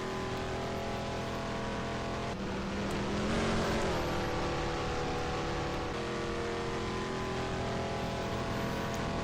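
A Dodge Charger 17 race car laps a big oval track in a Second Life rookie event, its engine droning steadily at a moderate distance, with the pitch rising briefly as it accelerates and no voices.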